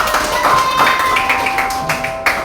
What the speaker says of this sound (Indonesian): Kalau silakan kasih tepuk tangan yang meriah.